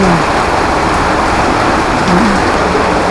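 Heavy rain pours down in a loud, steady roar, dense and continuous throughout with no pauses.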